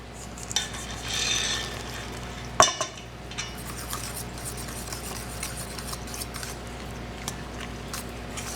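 A spatula mixes banana nut muffin batter in a bowl, giving soft, wet, continuous stirring with one sharp knock against the bowl early on and light taps scattered throughout.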